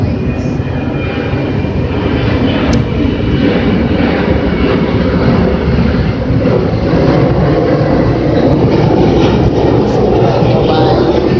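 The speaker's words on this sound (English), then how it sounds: "oh, we got some planes." Airplanes pass overhead, a loud, steady broadband engine roar that fills the whole span with little change, like a jet flyover heard outdoors.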